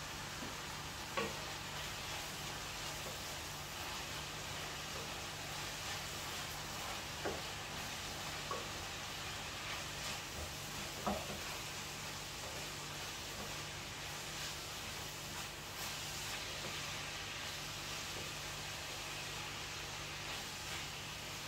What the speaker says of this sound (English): I have my pan with the carrots, courgettes and bell peppers frying here in the back